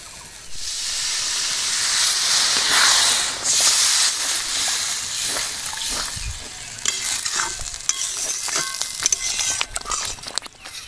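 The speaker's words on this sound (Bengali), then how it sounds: "মশলা থেকে তেল ছেড়ে এসেছে, তো এর মধ্যে এবার আমি পরিমাণ মতো জল দিয়ে দেবো।" Water hits sizzling spice masala in hot oil and sets off a loud, close burst of steamy hissing. The hiss fades into spattering frying while a spoon stirs and scrapes in quick clatters.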